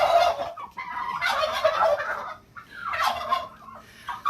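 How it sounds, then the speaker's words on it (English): Several turkeys on a farm in Liberia gobbling loudly and close by, rapid rattling calls overlapping in bursts with brief pauses between, no talking. "Those are our turkeys. They're very loud."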